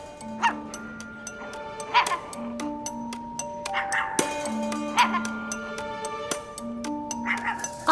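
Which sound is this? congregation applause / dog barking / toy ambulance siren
dog barking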